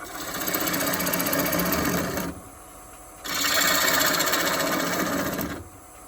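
A bowl gouge cuts into yew wood spinning on a lathe, giving a loud continuous scraping whir in two long passes separated by a short quieter pause.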